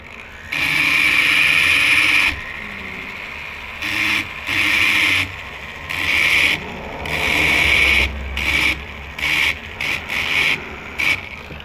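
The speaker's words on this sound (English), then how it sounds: "We've ground it down, but I don't grind it all the way." A metal ring being ground down at a jewellery bench, heard as repeated bursts of rasping, rubbing grind that start and stop in an uneven rhythm, close and fairly loud, with brief quiet gaps between passes.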